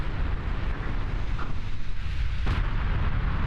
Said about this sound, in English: There is a flash fire on their battleship, and that is absolutely huge